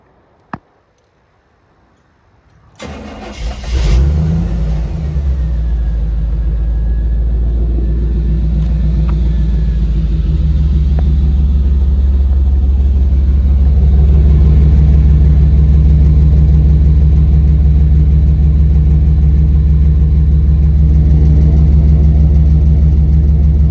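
A 1989 Chevy Suburban starts after a quiet moment, its exhaust catching with a loud rumble and then settling into a steady, heavy idle. It stays close and loud, with slight rises as the engine is revved.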